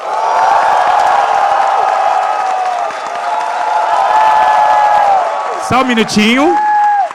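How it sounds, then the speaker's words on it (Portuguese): A large crowd cheers and claps loudly and continuously, a dense wash of voices and applause, with a few whistles and a voice briefly speaking near the end. "Todo mundo grita e aplaude muito."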